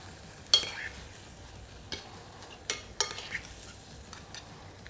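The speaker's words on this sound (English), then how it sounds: "now we deglaze with the stock. Loosen up with the rice, the stock" Stock poured into a pan of fried rice and shrimp for congee gives a soft hiss, broken by several scraping stirs and light clinks of a utensil against the pan.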